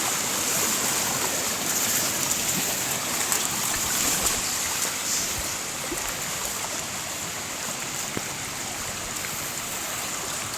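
Floodwater rushes fast over a canal in a forested area of Jajpur, giving a dense, continuous roar of flowing water that stays loud and even throughout, with no voices.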